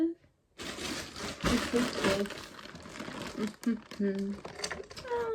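Plastic packaging crinkles and rustles up close as something is handled and opened, with a voice talking over parts of it.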